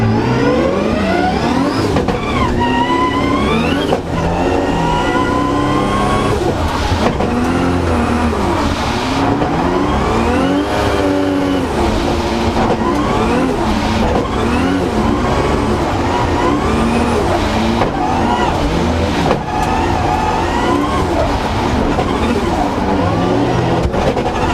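A drift car's engine revs hard and continuously on a real-life route, sweeping up and down in pitch through repeated throttle blips and gear changes, loud and close throughout with no talking.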